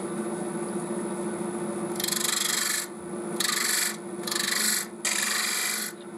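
A wood lathe spins near 1400 rpm with a steady tonal hum while a tool rasps against the turning wood in four loud scraping passes of a second or so each.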